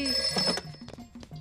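A telephone bell rings in a rapid repeating trill, loud and close, in a scene from a Hindi comedy film.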